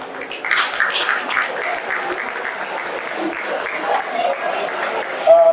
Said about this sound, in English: Please allow me a round of applause.